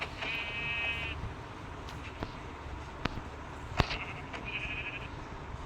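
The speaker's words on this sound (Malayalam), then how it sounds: "മൊത്തം ആട്." Goats or sheep in the Minecraft video game give two short, buzzy synthetic bleats, one at the start and a fainter one near the end, with soft game clicks and thuds between.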